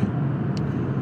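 A manual car rolls slowly into a car wash in neutral, giving a steady low rumble of engine and machinery throughout, with a brief hiss of spray partway through and no talking.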